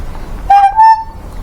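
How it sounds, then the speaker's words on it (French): A bicycle horn for warning cars, fitted to a bike with an extra handlebar and a cart, gives two short loud honks in quick succession, the second slightly higher and longer. "le klaxon pour les piétons et le klaxon pour les voitures"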